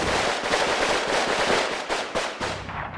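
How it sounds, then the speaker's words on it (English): Grenade or artillery blasts in Combat Mission: Stalingrad sound as a dense, loud run of sharp cracks and booms, with several distinct impacts standing out from continuous battle noise across the whole stretch. "That was a grenade, maybe it was artillery."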